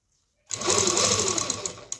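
A sewing machine stitches two pieces of cloth with elastic tucked between them, running in one quick continuous burst of about a second and a half after a moment of silence, then stopping with a final click.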